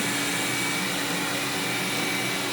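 A Xiaomi Mi robot vacuum mop runs in turbo mode with a loud, steady whirring roar that holds at the same level without a break.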